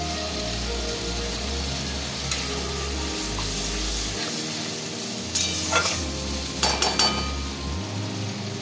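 Masala paste sizzles and fries in a pan while being stirred, a steady close crackling hiss with occasional scraping and clinks of the utensil against the pan.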